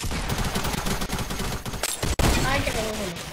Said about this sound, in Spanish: ¡Cúbrase que te disparan!